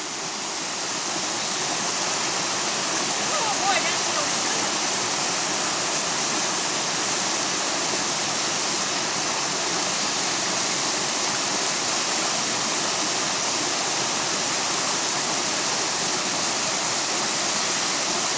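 Creek water rushing steadily along a trail in Shenandoah National Park, a dense, even hiss that fills the clip from start to finish, close and loud with no voices.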